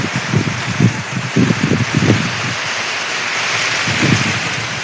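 Heavy monsoon rain during a cyclone storm, a steady dense wash of downpour with gusts of wind and intermittent low rumbles, loud and continuous throughout with no talking.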